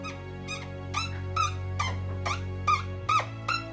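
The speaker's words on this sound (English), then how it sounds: "apologies for my squeaky pen" A squeaky marker pen writes on a board, giving a string of about nine short, high squeals in an uneven rhythm, close and clear over a low steady hum.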